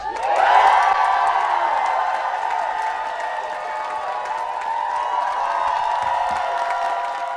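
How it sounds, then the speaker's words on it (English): A crowd at a protest outside NHS England's offices in London cheers and whoops, a sustained mass of voices and clapping that swells early then holds steady at moderate distance. "room for a massive cheer for everyone who's been on the ledge."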